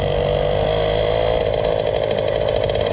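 A Motorynka moped's small two-stroke engine running steadily, a buzzy, rapid idle-like drone close to the listener with a constant, unbroken tone.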